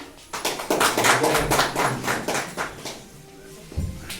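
Audience applause for a guest at a heritage guide training event, a steady burst of clapping lasting a few seconds, moderately close, then tapering off.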